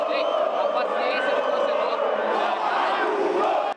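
Stadium football crowd at half-time of a Brazilian Série B match between Goiás and Bahia, a loud, dense roar of protesting fans chanting and shouting continuously throughout.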